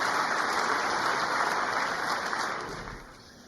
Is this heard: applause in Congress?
yes